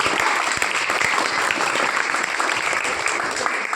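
Students at a school farewell ceremony applaud the teachers, giving a dense, steady round of clapping from a large crowd that holds evenly throughout.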